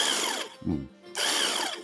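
A battery-powered electric water gun's pump motor whirs with a high, close whine, cuts out briefly with a low clunk, then spins up again at full speed.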